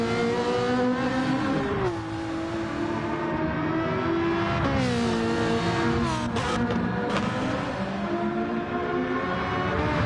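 Race car engines roar and rev continuously as cars cross the finish line in a Gran Turismo 7 daily race, loud sustained engine tones shifting pitch up and down with no talk over them.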